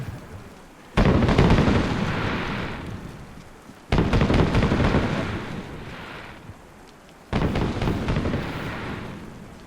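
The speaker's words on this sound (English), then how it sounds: "Fireworks." Three heavy fireworks bursts go off a few seconds apart, each a sudden loud crack that rolls into a long, fading rumble before the next blast.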